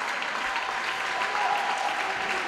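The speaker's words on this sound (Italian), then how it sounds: "ma si rialza Olleia tra gli applausi del pubblico" Crowd at a basketball game between Virtus Siena and Domodossola claps in steady applause, a dense patter of many hands filling the hall, moderately loud, with no clear speech.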